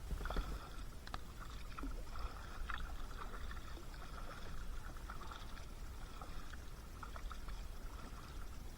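A loaded kayak is paddled across a calm, quiet pond, with soft continuous water swishes and small drips and trickles from the paddle strokes, faint and close by.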